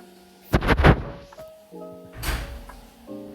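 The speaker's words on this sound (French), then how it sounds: "Explosion." A potato mine explodes in the Plants vs. Zombies video game, two thumping blasts with soft game tones between them, loud and close.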